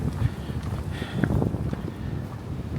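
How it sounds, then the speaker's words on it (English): Gusting wind buffets the microphone on the mountain summit at Seneca Rocks, West Virginia, a steady low rumble with brief stronger gusts throughout. "Didn't think it would be this windy up here."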